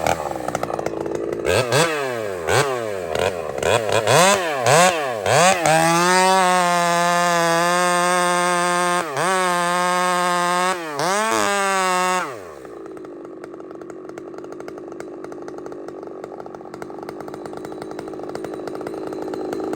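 A Stihl 500i chainsaw roars loud and close as it bites into a tree, revving in several sharp bursts before holding a steady high whine through the cut, then cutting off to leave quiet outdoor ambience.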